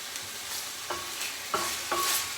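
Orange balsamic chicken sizzling softly in a pan, with a few distinct stirring scrapes spaced about half a second apart, quiet and close with no voices.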